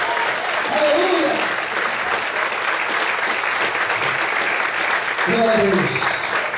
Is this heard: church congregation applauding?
yes